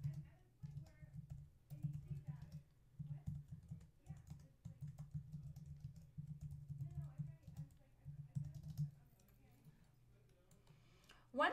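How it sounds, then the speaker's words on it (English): Keys clatter in a steady, close run of typing on a computer keyboard while a Google Docs document is being written, the clicks dense and even with brief pauses between bursts. "To demonstrate, I will type 2 sentences."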